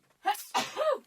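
One close, sudden sneeze bursts out with a sharp intake and explosive release, trailing off into a brief voiced tail in an otherwise quiet room.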